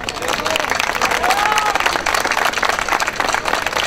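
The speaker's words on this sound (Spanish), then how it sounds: "Ahí está, un aplauso para ellos" An audience claps for the performers, a close, dense burst of applause that runs unbroken throughout. A voice talks over it and faint cheers rise in the background.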